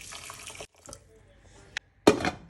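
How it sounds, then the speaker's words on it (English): Water poured from a tap into a pot of rice with a chicken stock cube, a short splashing burst near the end following softer kitchen clatter and a brief clink. "Add water."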